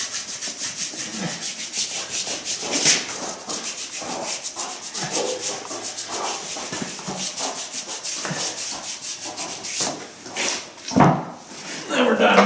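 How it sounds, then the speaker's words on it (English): Super glue is rubbed by hand onto an Easyboot Flip Flop hoof boot, a rapid rhythmic scrubbing friction sound that continues steadily with a few heavier handling bumps near the end. "Put the cap on, rub it in."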